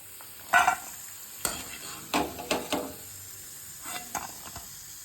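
Sun-dried leftover-rice vadagam frying in hot oil, a steady sizzle broken by several sharp clatters and scrapes of a ladle stirring in the pan.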